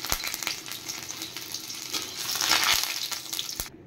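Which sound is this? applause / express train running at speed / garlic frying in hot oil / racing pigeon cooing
garlic frying in hot oil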